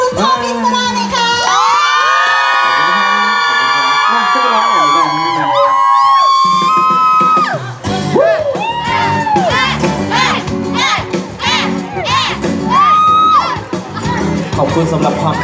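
Crowd at a Vitamilk promotional event at a Tesco Lotus store greeting a singer, loud cheering and shouting with children's voices and whoops over music and a singing voice, continuous throughout.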